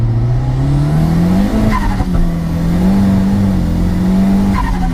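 A modified 226 BHP Ford Escort RS Turbo with a screamer pipe pulls hard in first gear, its loud engine note climbing steadily with a brief tyre-scrabbling chirp, close and continuous throughout.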